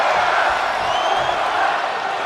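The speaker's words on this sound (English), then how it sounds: "This crowd has come unglued." A wrestling event crowd roars continuously, loud and dense, with whoops and cheers blending into a sustained wall of excited noise.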